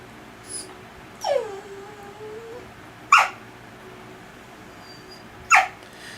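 A dog whimpers up close in a quiet indoor room, giving three separate thin, rising whines spaced a couple of seconds apart against faint background hiss.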